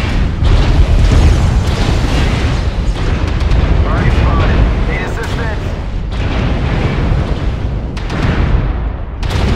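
A destroyed target blows up in Mechwarrior Online with deep, rumbling booms and weapon fire, heavy and loud across the whole stretch, with voice callouts mixed in.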